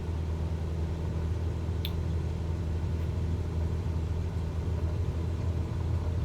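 Cessna 172 piston engine at steady takeoff power of 2350 rpm in Microsoft Flight Simulator 2020, a constant loud droning rumble throughout.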